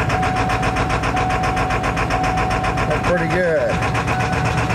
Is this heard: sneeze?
no